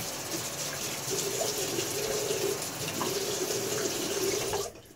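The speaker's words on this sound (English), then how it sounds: "Get some water on my face again." Tap water runs steadily into a sink while someone splashes it onto their face during a wet shave, a close, even gush that stops abruptly near the end.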